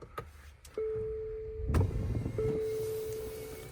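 A 2026 Infiniti QX60 Autograph starts up from its push button: a few soft clicks and chimes, then a sustained electronic tone, a brief louder engine surge, and a second steady tone over a low idle hum.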